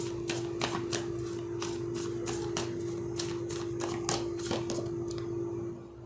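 Tarot cards shuffled by hand in a steady run of crisp riffling snaps and slides, close and fairly loud over a constant low hum, with no talking.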